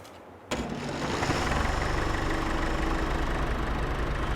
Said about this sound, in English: this guy is easily one of my favorite old style tractors